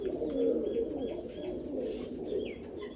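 Pigeons coo close by in soft, repeated rolling calls, with faint chirps from other birds in the background and no talk.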